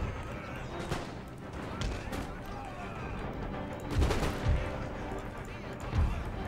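Artillery and musket fire in an Empire Total War siege battle at Moscow, with scattered booms and gunshot cracks at middling distance and heavier blasts clustering midway, beneath a background of continuous battlefield noise.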